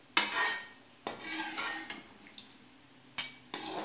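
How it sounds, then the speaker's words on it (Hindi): Golden brown fried onions are lifted out of a pan for chivda, giving a few sharp metallic scrapes and clinks of a utensil against the pan, separated by quieter gaps. "देखिए प्याज गोल्डन ब्राउन हो गया है, अब हम इसे निकाल लेंगे ऐसे करके"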